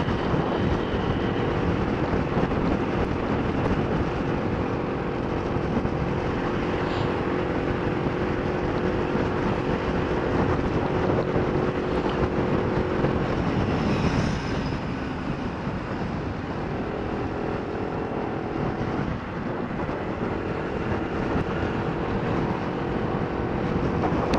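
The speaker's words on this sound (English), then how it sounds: "Oh no, it's windy." Steady, heavy wind buffeting a microphone during a ride to college, a constant low rumble and roar filling the whole stretch with no pauses.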